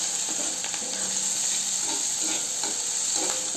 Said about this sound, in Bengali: এর মধ্যে একটু পাঁচফোড়ন দিয়ে দিলাম, পেঁয়াজ দিয়ে দিলাম, কাঁচামরিচ দিয়ে ভালো করে ভেজে নিই